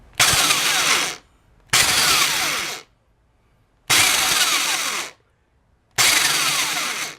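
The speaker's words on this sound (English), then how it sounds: "I got a drill with a bit that should work. I'm just doing it in slow bursts." Electric drill boring two holes through an outlet plate in four loud, steady bursts of about a second each, separated by short silent pauses.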